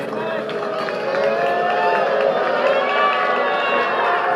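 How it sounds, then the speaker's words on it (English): Theatre audience at a Hamilton curtain call, a dense crowd roar mixing boos and scattered claps that swells after the first second and holds loud and steady throughout. "a mix of claps and boos, in fact, for the Vice President-elect"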